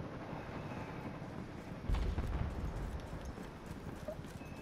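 Horse hooves clopping in the Battlefield 1 World War I shooter, a steady ground-level patter with a heavier burst of thuds midway, set against constant wind-like ambience with no talk.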